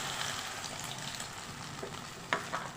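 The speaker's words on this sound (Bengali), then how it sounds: "এখন আমি কড়াইয়ে দিয়ে দিচ্ছি ডিমের গোলা" Egg batter fries in a hot wok, giving a continuous, close, even sizzle with a couple of faint clicks near the end.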